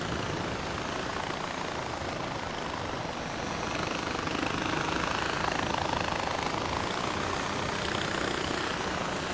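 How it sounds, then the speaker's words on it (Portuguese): A helicopter in Far Cry 4 gives a continuous, loud rotor and engine roar with no break. The noise swells slightly partway through and stays strong to the end. "Vou pegar meu helicóptero aqui."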